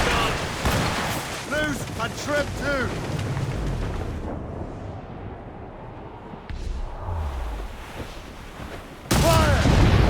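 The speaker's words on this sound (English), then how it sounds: "Cannon ready! Fire!" Ship cannons fire in a naval battle in Assassin's Creed Rogue: repeated heavy booms and rumbling blasts, loud and close, with a final big volley at the end, under shouted crew voices.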